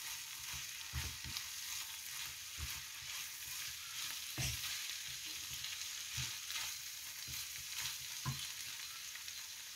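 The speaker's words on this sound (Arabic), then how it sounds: "نضع الفلفل الأحمر، نقلب المحتويات مع بعضها" Red pepper fries in a pot with green beans, a steady broad sizzle running throughout, with intermittent soft stirring knocks and scrapes, quiet and close.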